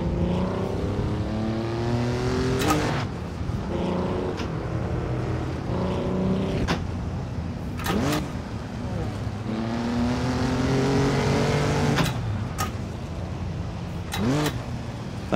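Racing sim engines drone and rise through gear changes, with layered engine notes from surrounding traffic cars and sharp blips between shifts, steady and fairly loud throughout, while someone talks over it.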